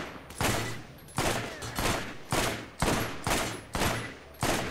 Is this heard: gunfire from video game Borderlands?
yes